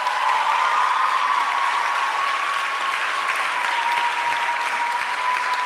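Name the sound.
applause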